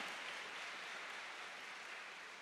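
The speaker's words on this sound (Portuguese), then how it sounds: "Uma salva de palmas para esse menino" A church congregation at a sermon gives a round of applause, a smooth continuous roar of many hands, distant and soft, with no distinct voices.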